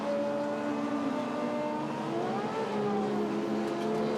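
Race cars at Lime Rock Park, heard as faint, distant engine drones with rising and falling pitch as the cars move around the track, a continuous moderate hum with no nearby pass.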